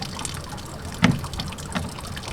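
Water dribbles and trickles out of a camper's opened drain while it is being drained for winter, a soft close flow with one brief louder gurgle midway.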